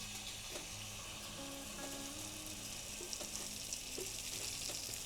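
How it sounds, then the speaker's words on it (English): Bánh nướng batter sizzles steadily in a hot pan, a soft continuous crackle with faint scattered pops and no voices. "When I poured the batter into the hot pan, it made this really great sizzling noise on the outside."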